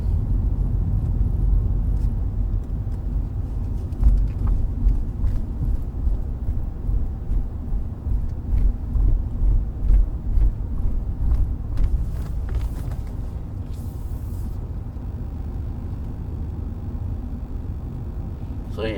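Heavy traffic on the Genting mountain road, three jam-packed lanes of cars climbing, makes a continuous low rumble of engines and tyres with surging passes, heard from inside a vehicle with people talking.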